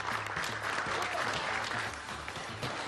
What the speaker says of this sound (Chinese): 热烈的掌声，欢迎我们两队厨师团队闪亮登场